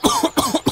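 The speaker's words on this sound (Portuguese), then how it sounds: "A tosse da alergia pegou você?" Several sharp coughs in quick succession, close and loud, from a cough syrup commercial.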